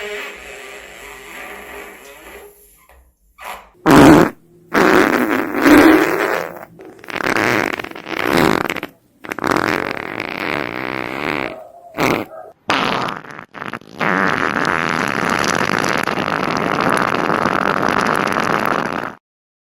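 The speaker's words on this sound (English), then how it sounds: "The pooping and farting sound effect goes like this." A cartoonish pooping and farting sound effect: several loud, wet, sputtering bursts with short gaps between them, then a long continuous spluttering blast lasting several seconds, heard up close with no talking.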